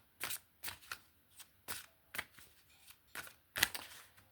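Tarot cards are shuffled in quick, crisp riffles, about nine short bursts spaced evenly, close up and quiet with no talking.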